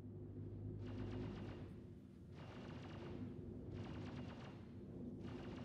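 Weapons fire in the space game Star Citizen comes in four rapid, rattling bursts separated by short pauses, all fairly faint over a steady low hum, with no voices.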